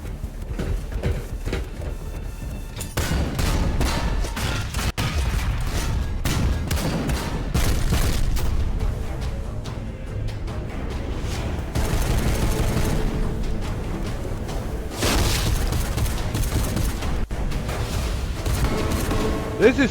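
Cannon fire and explosions from a Warhammer 40k battle scene: dense, continuous booms and gunfire-like bursts, loud and sustained throughout with little letup.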